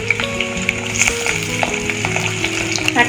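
Chopped tomato dropped into a pan of fried potatoes, giving a loud, close, steady sizzle that keeps going for the whole few seconds.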